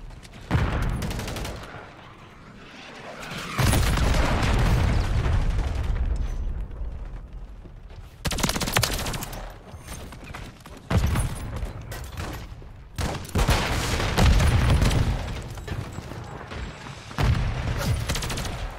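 Video game gunfire, with several long bursts of rapid automatic shots and booming impacts separated by brief quieter gaps, loud and close throughout.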